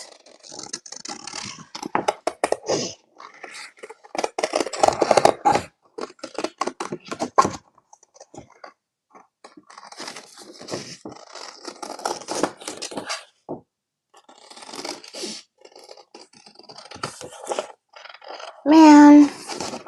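Scissors snip small craft flowers for a candle and tray project in short, irregular close cuts mixed with rustling handling noises, while a person talks intermittently.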